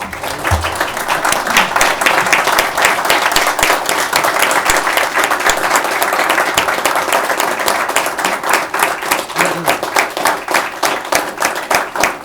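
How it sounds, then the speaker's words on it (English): Loud, sustained applause at a village board meeting for medal recipients, with many hands clapping close by in an even, dense roar that stays steady throughout and eases only slightly near the end. "I think they deserve a nice round of applause."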